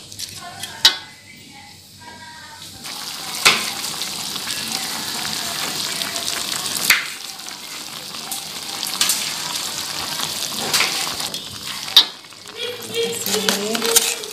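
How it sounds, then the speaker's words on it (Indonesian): Tempeh and tofu simmering in broth in a pan, a steady bubbling sizzle with occasional sharp clinks of a utensil against the pot. "Kita masak sampai mendidih, sampai tempenya matang dan empuk"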